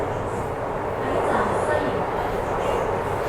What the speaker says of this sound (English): this train is set to be peak hour limited.